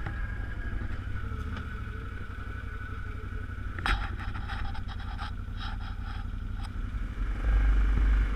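A Can-Am Outlander 800 XTP ATV engine drones steadily while riding over rough terrain, with rattling knocks and jolts from the bumpy ground scattered through the middle and a louder low rumble near the end.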